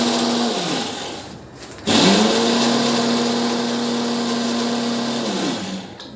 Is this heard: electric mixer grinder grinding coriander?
yes